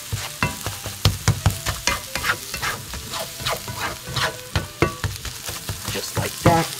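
Eggs frying in a pan give off a steady sizzle, with rhythmic scraping and tapping from stirring and flipping close by. No one speaks.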